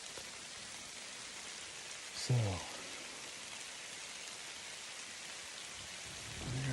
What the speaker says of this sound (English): and it is now raining